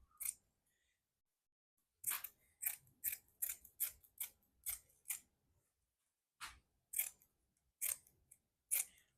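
Scissors cutting new seat upholstery during a VW Bug restoration, a run of sharp crisp snips close by, irregularly spaced with a brief pause midway, in an otherwise quiet room.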